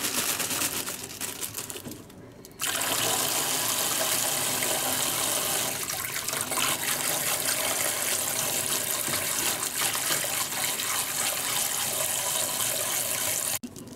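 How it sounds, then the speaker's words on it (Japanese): Butterbur buds (fukinoto) rinsed under a running tap to wash off pine needles and debris, a steady loud rush of water with brief changes in flow and faint handling noises. "まずは松の葉などゴミがいっぱいついているので水で洗っていきます。"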